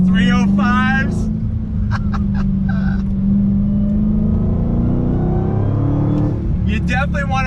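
A Dodge Challenger Hellcat on 305 tires pulls hard from a rolling start, its engine a loud, steady roar that builds throughout, with a person's voice heard briefly at the start and end.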